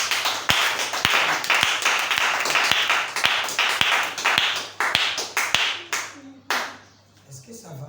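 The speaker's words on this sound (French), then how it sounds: "Acclamez très fort." A church congregation applauding loudly, with dense clapping and sharp individual claps near at hand, thinning out and fading toward the end.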